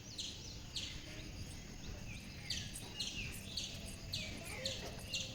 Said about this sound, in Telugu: బర్డ్స్ సౌండ్స్ అయితే నాకు తెలిసి వుడ్ పీకాక్ బర్డ్ సౌండ్ అనిపిస్తుంది